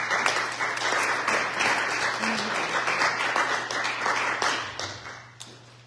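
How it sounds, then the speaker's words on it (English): A church congregation gives a warm round of applause for two musicians at a fellowship service, a full, sustained clatter of clapping over a low hum that thins out toward the end. "Let's give them a nice round of applause."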